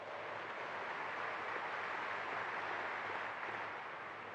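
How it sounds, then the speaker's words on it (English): A large Rotary gathering of polio-campaign supporters breaks into steady, dense applause, a broad wash of many hands clapping together that holds at an even level for several seconds with no voices above it. "go ahead, give yourself a round of applause"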